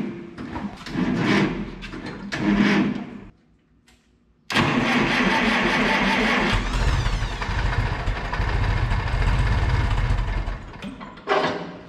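Oliver Super 44 tractor engine cranking with new battery cables, a labored starter whir that stops briefly, then a loud sustained cranking that catches and runs roughly, close up.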